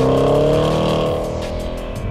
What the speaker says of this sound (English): that keeps the valves open at the back and that glorious sound echoing through the neighborhood